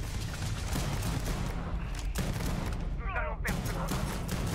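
Gunfire in the video game Starfield, heard as dense, continuous rapid shots forming a loud, steady fusillade throughout, with a brief voice partway through.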